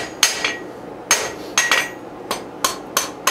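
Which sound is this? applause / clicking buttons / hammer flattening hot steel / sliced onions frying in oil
hammer flattening hot steel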